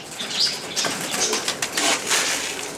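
Pigeons flap their wings as they take off toward the roof, a close, loud flurry of repeated feathery beats in several bursts, with no talking.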